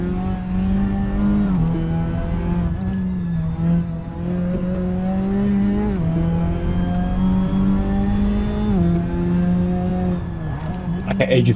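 Hybrid LMP2-style race car engine in the Assetto Corsa racing game, a continuous whining tone that rises and falls with shifting revs, loud and close, with someone talking over it.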